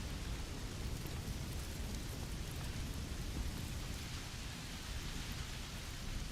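Heavy rain in the space game Starfield, a steady dense hiss of falling drops with a low rumbling undertone, unbroken and even throughout, with no voices.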